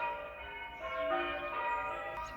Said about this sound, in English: Church bells are still ringing.